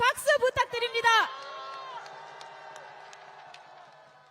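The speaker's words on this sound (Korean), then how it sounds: "여러분, 전종덕 의원님께 다시 한번 큰 함성과 박수 부탁드립니다" Crowd at a large political rally cheering and applauding, a broad wash of claps and shouts that fades gradually, heard after a short burst of amplified talk.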